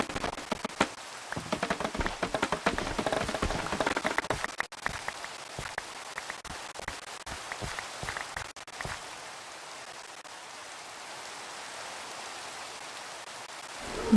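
Steady Minecraft rain hiss with a dense, crackling patter that is busier at first, then settles into an even wash of rainfall. No voices.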